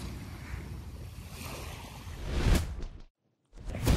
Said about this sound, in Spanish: en Sanbanse, en la bahía de Tokio, ciudad de Funabashi, se observó un fenómeno poco común: hielo en el oleaje